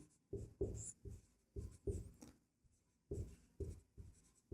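Pen writing out a class 10 maths solution on circle areas, sector minus triangle, by hand: a run of short scratchy strokes in bursts with brief pauses, close and fairly quiet, no talking.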